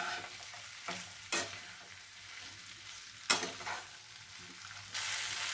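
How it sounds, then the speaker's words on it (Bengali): Vegetables coated in mustard and poppy seed paste stirred in a pan for a vegetarian chorchhori, with a few distinct scraping strokes over a faint low sizzle. "দিয়ে এটা একটু নাড়িয়ে নেব।"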